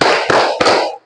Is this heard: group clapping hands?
yes